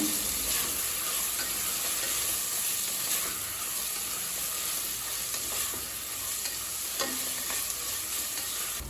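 Green chillies and mint sizzle and fry steadily in a pan while coconut milk rice is being made, a continuous close crackle with stirring and no talking.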